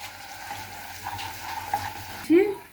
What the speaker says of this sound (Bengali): লবণ দিচ্ছি, মশলাটা ভালোভাবে কষাচ্ছি